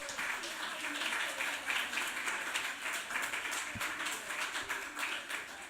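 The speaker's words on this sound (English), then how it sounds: "Let's clap." Audience clapping at a literary festival event in Trinidad, a steady, fairly quiet patter of many hands lasting throughout, with faint murmuring beneath.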